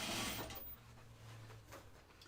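A sewing machine stitches a jeans waistband in a short, steady mechanical whir with a faint rhythmic needle chatter, slightly louder at first, then easing a little.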